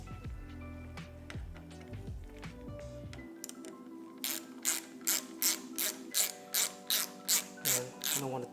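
Ratchet wrench tightening the bolt on a Triumph Street Triple 765 RS brake or clutch lever mount during a TWM lever install, a run of quick metallic clicks followed by about ten louder, evenly spaced ratcheting bursts, close up.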